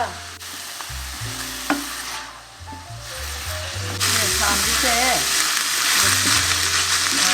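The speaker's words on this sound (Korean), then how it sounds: "마제 소스, 두반장 이렇게 넣고 모두 하고, 그러니까 이 국물이 다 졸을 때까지만 볶아주시면 됩니다" Mazesoba sauce with doubanjiang sizzles and crackles in a pan as it is stir-fried and reduced, with steady scraping stirs. The hiss grows louder partway through, and a voice speaks a few brief words over it.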